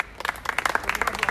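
A small group claps in a brief burst of sparse, uneven individual hand claps, fairly close and moderate in level, with faint background voices.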